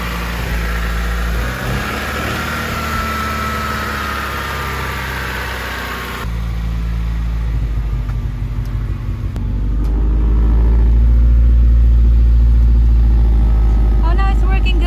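Honda Civic engine idling just after a jump start on a budget build. The idle rumbles steadily close to the microphone, and background noise shifts partway through.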